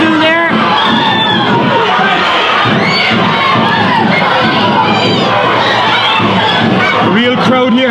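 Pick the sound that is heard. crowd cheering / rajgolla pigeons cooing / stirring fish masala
crowd cheering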